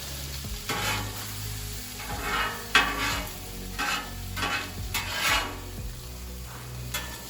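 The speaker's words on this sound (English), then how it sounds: "Mix thoroughly until everything is heated through." Spiced quesadilla filling with cumin and chili powder is stirred and sizzles on a Blackstone griddle. A spatula makes rhythmic scraping and rubbing strokes over a moderate frying hiss, close and without talk.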